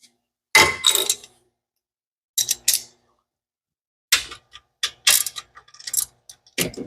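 A ratchet wrench loosens intake manifold bolts on a big block Ford engine in an 1983 Mustang GT Foxbody, making sharp close clicking bursts in several separate runs with silent pauses between.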